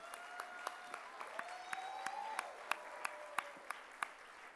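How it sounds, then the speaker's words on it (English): Scattered, sparse hand claps at a Toastmasters district event, a few distinct sharp claps ringing out over a quiet, reverberant room with a faint tone in the background, rather thin than thunderous. "Please give our current district leaders a thunderous round of applause."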